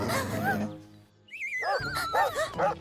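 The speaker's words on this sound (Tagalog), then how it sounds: "Oh, isang galit na aso." Angry cartoon dog barking, a series of sharp close yelps and barks with a whiny high-pitched tone between them, loud and alone.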